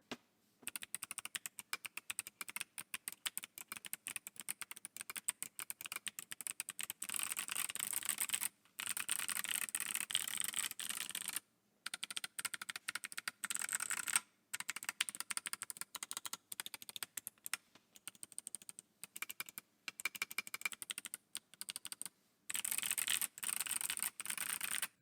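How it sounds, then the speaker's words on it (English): Typing on a gasket-mount mechanical keyboard fitted with Kailh Box White clicky switches, with dense, rapid crisp clicks in steady bursts separated by brief pauses, close and clear with no talking. "they sent me some clicky switches with this board"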